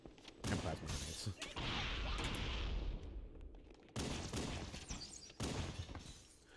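Rapid Magnum pistol gunfire and plasma explosions in a Halo-style shooter, with sharp shots and bursts layered over dense, continuous game noise and sudden loud cracks as a player talks over it.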